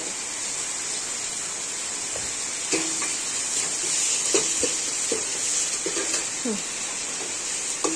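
Ginger garlic paste sizzles steadily in hot oil for a tengra fish curry, a continuous bright frying hiss with a few sharper spatters and stirring clinks over about eight seconds.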